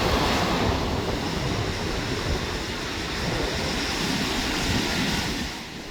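Steady ocean surf rolls and breaks on a beach where surfers ride the waves, a broad continuous wash of noise with wind across the microphone and no talking.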